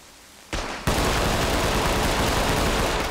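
Sustained gunfire erupts in the tactical shooter Ready or Not, a loud dense burst kicking in after a short quieter stretch and then roaring without pause to the end.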